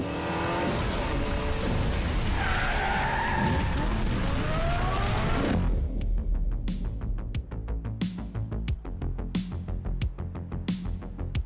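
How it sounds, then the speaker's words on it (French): Tyre screech from a Hot Wheels cartoon car, a long sustained squeal over engine roar and rumbling for about six seconds, giving way to sharp rhythmic clacks and hits. "Sophia, on va devoir faire crisser les pneus"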